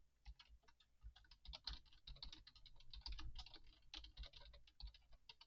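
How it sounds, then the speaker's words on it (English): Someone types steadily on a computer keyboard, with quick irregular clicks and clatter picked up faintly by a nearby microphone and no speech. "I can't get the keyboard to go away, so you're gonna have to deal with it."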